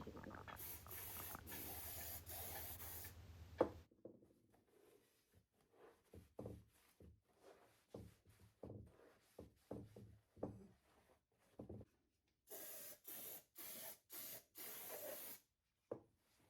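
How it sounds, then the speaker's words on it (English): Brake cleaner sprayed into the honed cylinder bores of a Kawasaki Z1B 900 engine during a rebuild: one long hiss, then a run of short bursts and taps, ending in several quick hissing sprays, close and alone. "I give the bores a thorough clean with some brake cleaner"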